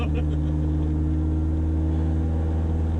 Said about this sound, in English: Does sound like a race car.